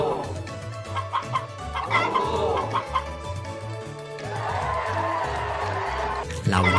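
Hens squawk and cluck in a Harvest Moon chicken fight over a looping game soundtrack with low bass notes, the bird sounds busy and continuous, rising into louder crowd-like clamor near the end.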